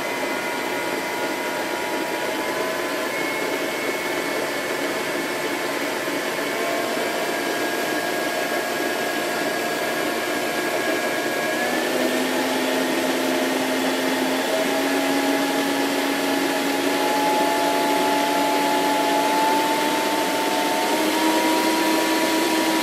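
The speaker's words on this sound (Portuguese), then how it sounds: "eu vou colocar ele aqui na batedeira, só pra vocês verem a batedeira funcionando" Steady motor whir of a red Black+Decker planetary stand mixer whipping cream, a loud continuous drone with a slight pitch shift partway through and no speech.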